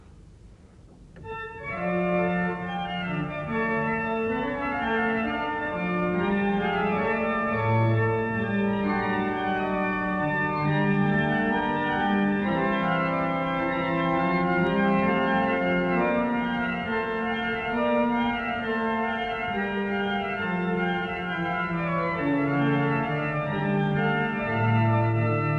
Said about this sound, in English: here's the sound of the remaining full Schnetzler grate